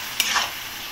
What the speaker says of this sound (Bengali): এবার মশলাটা আমি ভালো করে নাড়াচাড়া করে